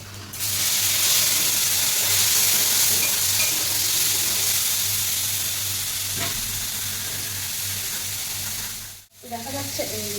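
Paneer fries in oil seasoned with salt and turmeric, a loud continuous sizzle with faint stirring scrapes that fades slightly before a brief break and a softer clatter at the end.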